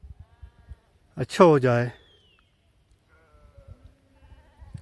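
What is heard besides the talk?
sheep bleating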